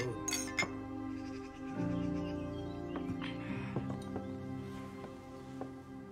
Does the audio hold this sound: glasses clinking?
yes